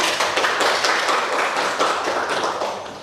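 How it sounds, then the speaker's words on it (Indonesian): A class of students clapping their hands in unison, a brisk run of sharp, rhythmic claps close up that thins out toward the end, with no talking. "tepuk tangan dulu ya"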